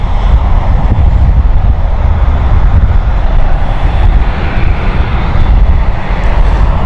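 Loud, steady roar of a parked aircraft's number two engine running at London City Airport, continuous broadband rumble with no breaks or talk.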